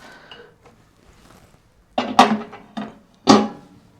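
A few sharp glassy clunks and clinks as a glass microwave base plate is set down into an LG microwave oven, with softer handling noises between them in a quiet room.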